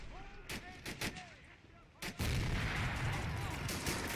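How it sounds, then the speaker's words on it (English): Mortar shell impact in a WWII D-Day-style beach assault video game: several sharp distant shots, then a loud booming blast that settles into a sustained rumbling roar. "Must have been a mortar hit again."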